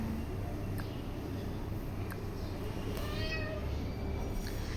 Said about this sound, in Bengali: আর এদিকে আমার আসল বিলাই মিয়াও মিয়াও করতেছে।